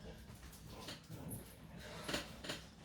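A female dog, reacting to noise through an open window, gives faint, brief whimpers and soft breathy sounds indoors, quiet and intermittent.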